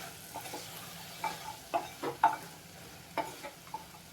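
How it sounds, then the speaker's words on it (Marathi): Jackfruit seeds stirred into a curry in a pan, a soft low sizzle with several faint scrapes and taps of a spoon mixing at irregular intervals, quiet and close with no talk. "ह्या सगळ्या आठळ्या मी यात घालून घेते आणि हे सर्व व्यवस्थित मिक्स करून घेते"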